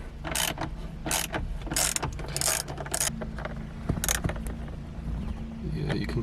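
Someone works a ratchet with a 10mm socket to loosen bolts behind a head unit in a Toyota 86, making several short bursts of clicking at an uneven pace, close by and fairly loud.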